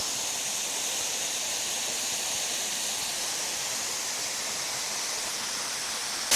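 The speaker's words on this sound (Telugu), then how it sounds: "ఇది వాటర్ ఫాల్" A waterfall roars steadily nearby, a broad, unbroken rush of falling water that fills the scene with no pauses or other sounds.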